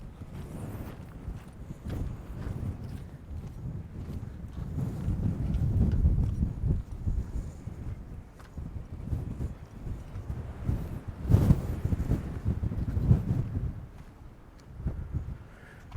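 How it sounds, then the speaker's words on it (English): Gusty wind on the Ningaloo Coast near Exmouth, Western Australia, buffets the microphone in low rumbling bursts, swelling and easing over time, with faint scattered background sounds. "It is so windy"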